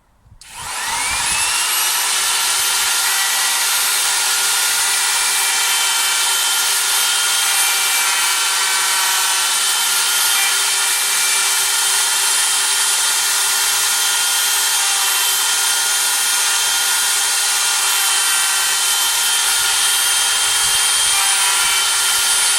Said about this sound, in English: hopefully the plan is to try and do that using the router.